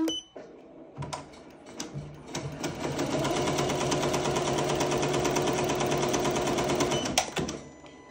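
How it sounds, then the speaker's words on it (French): A Ricoma MT 2001 eight-needle embroidery machine starts up after a few clicks and runs steadily at a fast, even mechanical stitching rhythm for several seconds, then stops abruptly. "Voilà, je remets ma machine en marche."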